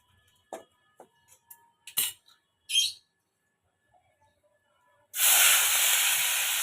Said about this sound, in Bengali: কড়াই তেতে গেছে, এবার তেল দিয়ে দিলাম।